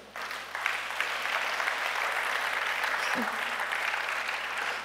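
A church congregation applauds in a steady, even wash of clapping that carries on for several seconds, with a voice speaking over it.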